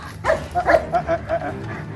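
A dog gives a few quick, close barks and yips over a steady background hum.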